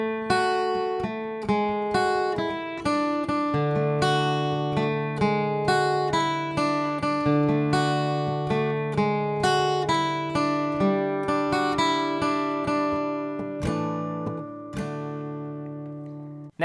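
A solo guitar plays the intro of a song, a steady rhythmic pattern of plucked chords and melodic notes, clear and close with no voices.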